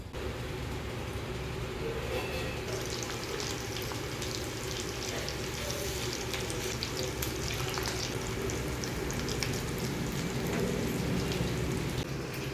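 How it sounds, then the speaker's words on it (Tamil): Vegetable cutlets frying in hot oil, a dense continuous crackling sizzle that holds steady throughout and grows slightly fuller near the end, close and even, with no one talking. "எண்ணெய் நல்லா சூடாயிடுச்சு இப்போ நம்ம ஃப்ரை பண்ணலாம்"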